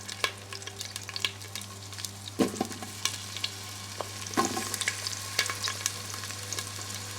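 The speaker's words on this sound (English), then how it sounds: "it's sizzling." Carrots, garlic and onions sizzle steadily in a hot pan while a utensil scrapes and clatters, stirring them in irregular bursts.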